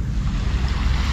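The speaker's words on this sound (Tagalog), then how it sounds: "Ito yung dagat." Sea waves wash against the shore at Sinogbuhan, San Joaquin, below the mountains, making a loud, steady, rushing roar mixed with wind buffeting the microphone, with no break and no voices.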